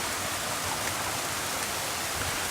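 Steady rain falls outside a container house in the Philippines, heard as a loud, even hiss of water that runs unbroken through the whole stretch with no voices over it.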